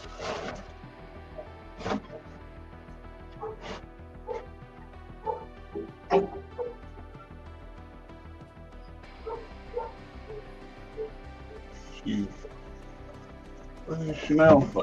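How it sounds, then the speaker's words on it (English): A roughly ten-month-old dog gives repeated short barks and yips, spaced irregularly and moderately near, while a person talks throughout. "She don't sound like a puppy barking anymore."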